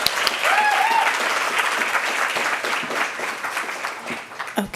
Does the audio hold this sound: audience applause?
yes